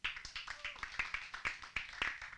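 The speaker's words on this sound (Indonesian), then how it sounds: "Tepuk tangan dulu." Small audience clapping hands at a Papuan women's human rights gathering, a quick run of sharp, uneven claps close by, fairly faint, with a few voices murmuring underneath.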